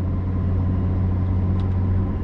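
Local delivery trucks running between a Rewe distribution centre and supermarkets pass by as a steady, low engine rumble and hum at moderate distance, with no voices.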